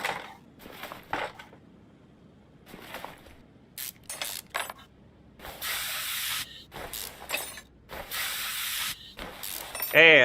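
Bolts being unscrewed with power tools in Car Mechanic Simulator 2021 on an Audi RS6: repeated short bursts of hissing, ratcheting whirs separated by quiet gaps, growing longer and denser toward the end.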